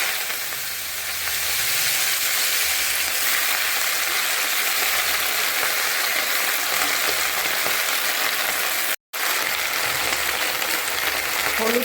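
Leafy greens hit hot oil already tempered with dried red chilli and cumin, giving a loud, steady frying sizzle and hiss close up that runs throughout, broken by one brief cut.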